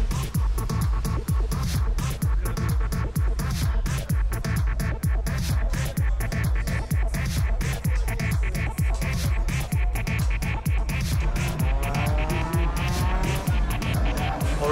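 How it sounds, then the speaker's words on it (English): Race cars howl around the Jamwest circuit in Jamaica, a loud, continuous engine roar pulsing with rapid gear changes and revving, with tire squeal and passing cars swelling near the end. "There is some circuit racing happening today."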